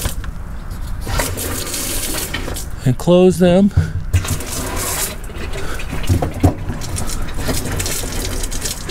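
Water bursting and gushing from an RV's plumbing lines while the Class C motorhome is winterized, a steady broadband rush running the whole time with a person briefly talking over it midway.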